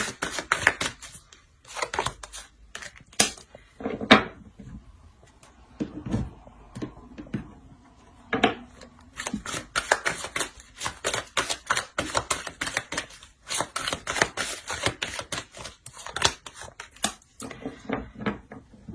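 Tarot cards are handled, shuffled and drawn on a table, producing quiet, irregular clusters of crisp flicks, taps and snaps separated by short pauses, with no talking.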